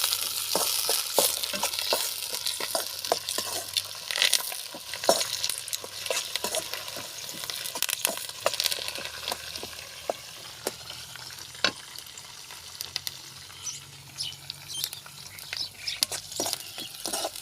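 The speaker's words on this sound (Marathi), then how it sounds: "कढीपत्ता टाकला तेलामध्ये" Curry leaves frying in hot oil for tarri poha give a steady close sizzle, broken by frequent sharp pops and scrapes of stirring throughout, with no voices.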